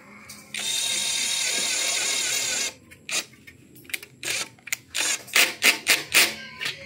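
Electric drill running at low speed, boring into plastic during sliding window panel assembly: a steady, close mechanical whine for about two seconds, then a series of sharp clicks and clatters as the bit and parts are handled.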